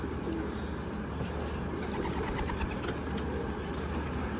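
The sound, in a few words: homing pigeons cooing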